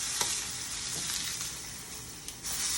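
Food sizzles and fries in a non-stick pan with a little olive oil as it is flipped with a silicone spatula, a steady close hiss with a couple of brief scraping clicks.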